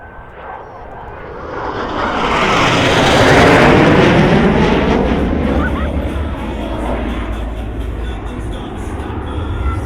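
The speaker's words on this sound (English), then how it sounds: "Blue Angels 5 and 6 are approaching the flight line at 400 miles per hour." Two Blue Angels jets, numbers 5 and 6, make a high-speed pass at about 400 mph over an airshow spectator area. A loud roar swells to a peak around the fourth second, then fades slowly into a lingering rumble.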